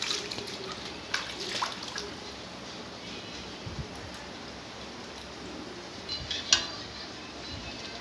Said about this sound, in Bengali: তালগুলোকে ভালো করে ধুয়ে আমি ছাড়িয়ে নেব।